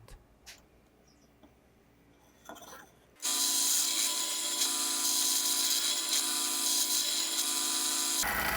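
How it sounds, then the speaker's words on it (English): A power drill with a 6 mm bit bores holes in scrap wood, starting after a few quiet seconds of handling noises with a sudden loud, steady whirring grind that holds until it stops abruptly near the end. "I will make 22 hole with the 6 millimeter drill bit"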